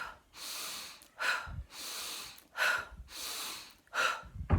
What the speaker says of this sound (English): So you breathe in, pretty sharp, fast breath. Breathe out, pretty sharp, fast breath.